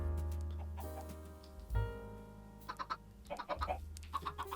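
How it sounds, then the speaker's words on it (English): Chickens in the game Minecraft, a few short clucks and bursts of squawking in the later half, fairly faint against a steady background of soft game music. "Did that one egg spawn 4 chickens?"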